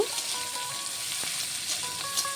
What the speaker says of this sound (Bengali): এখন দিয়ে দেবো পেঁয়াজ কুচি। পেঁয়াজটিকে দিয়ে একটু নেড়ে ছেড়ে ভেজে নেব।